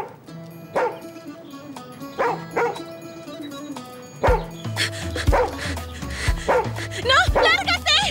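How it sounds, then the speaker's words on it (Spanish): A dog barks in a video game, several sharp barks spaced out and then coming faster with yips alongside game music, while a character speaks over part of it. "¡Aleja tu perro de mí!"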